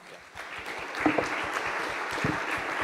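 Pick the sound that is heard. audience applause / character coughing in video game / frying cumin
audience applause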